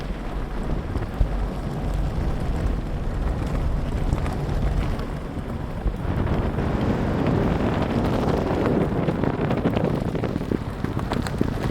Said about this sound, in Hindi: बिल्कुल शांत जंगल, बस हमारी गाड़ी की आवाज है और बर्ड्स की आवाज आ रही है।